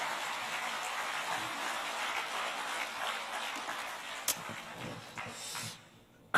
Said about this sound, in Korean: 박수 치려면 같이 쳐야지